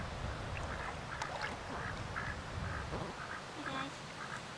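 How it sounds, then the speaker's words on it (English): Ducks quack repeatedly in short bursts over steady outdoor background noise, several birds calling close by. "There's some ducks over here."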